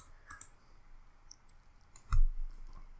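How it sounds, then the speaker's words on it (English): A computer mouse clicks on Scratch editor buttons while flipping sprites. Faint clicks come first, then one sharp, close click near the end in a quiet room. "Click the flip left right once and flip up down once."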